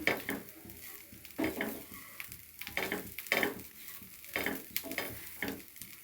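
Grated coconut fried in ghee in a pan for coconut burfi, a close sizzle with rhythmic bursts of a spoon scraping and stirring roughly every second.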